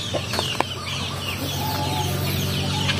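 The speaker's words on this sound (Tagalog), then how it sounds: "ito yung mga alaga mga kabukid, yung mga sisiw" Chickens and young chicks on a native chicken farm cluck steadily at close range, with several sharp calls over a constant background of murmuring fowl on a rainy day.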